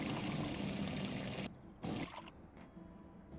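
Beer pours from a tap in the Brewpub Simulator video game, a loud steady rushing stream that stops, spurts briefly once more, then fades to quiet trickles.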